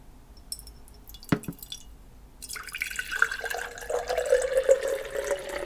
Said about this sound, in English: I have some water here that I can pour for you